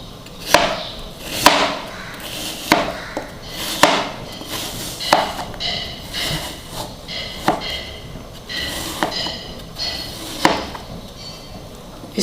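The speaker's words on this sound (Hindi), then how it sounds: "इस तरह मैं सारे एप्पल की कटिंग करके आपको दिखाती हूँ" A knife chops apples on a board for dry fruit chaat, about a dozen sharp, close thuds at a fairly even, unhurried rhythm.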